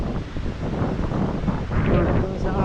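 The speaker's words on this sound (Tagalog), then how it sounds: "Mais-ayos pa ngayon, malalaki na ang alon. Sobrang lakas pa ng hangin." Strong wind buffets the microphone at a seaside beach as big waves roll in, a dense, continuous roar rising and swelling slightly toward the end, with no clear voices.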